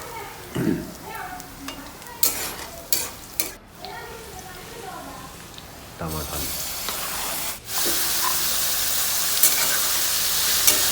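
Crushed garlic goes into a pan of frying tomato, onion and green chili curry base, scattered clanks and stirring first, then a loud continuous sizzle takes over near the end.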